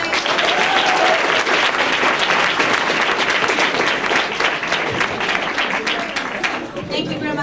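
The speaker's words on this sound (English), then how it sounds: "Round of applause, guys" A round of applause from family and guests at a National Letter of Intent signing day, dense steady clapping filling the room for several seconds with some chatter and voices mixed in, tapering slightly near the end.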